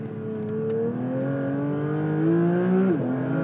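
A Porsche race car drives between snow walls on an ice track, its engine holding a loud, steady drone that climbs through revs and drops sharply near the end, close and continuous with no talking.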